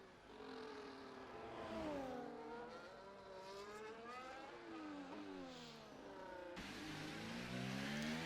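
An F1 race car in a racing video game heads out at the Austrian Grand Prix on soft tyres. Its engine whines steadily and loudly, the pitch sweeping up and down through gear changes with no pause.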